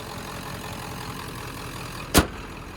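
A steady, low diesel engine rumble from a 1996 Ford F-250 with a 7.3L Power Stroke idling close by, with one sharp click partway through.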